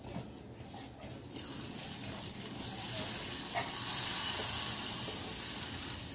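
A hot ghee tempering with asafoetida is poured into dal and sizzles, a steady hiss that starts softly and swells louder and brighter, continuing without any talking.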